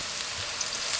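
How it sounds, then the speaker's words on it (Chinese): Chopped scallions and thirteen-spice powder fry in hot oil with a dense, even sizzling hiss, close and continuous, with no voices. "炒出葱花的香味儿"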